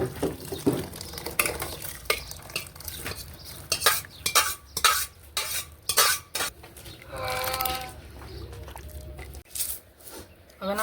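A spoon stirs cooked dal into hot tempering in a metal pot, giving repeated scraping clinks and clatters against the pot over a soft sizzle, close and fairly loud, with no talking.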